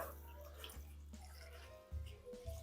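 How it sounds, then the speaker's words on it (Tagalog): Water is poured into a cooking pot for catfish sinigang, a steady splashing and running sound with a few heavier gurgles near the end, close and fairly quiet. "Lagyan natin ng tubig."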